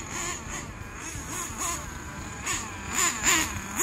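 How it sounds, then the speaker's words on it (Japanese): A TG10Mk.2 engine idles and revs gently while warming up on a course, a steady mid-level hum with soft rising swells and a slightly louder burst of revs near the end, heard up close without talk. "ちょっとねエンジン温めてあげないといけないんで、ちょっと最初はゆっくりと回していきます"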